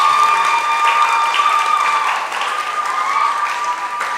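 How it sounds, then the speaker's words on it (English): Audience at a junior school graduation ceremony applauding the mayor, a dense, even round of clapping from a crowd, fairly close and continuous with no talk. "let's give the mayor another round of applause"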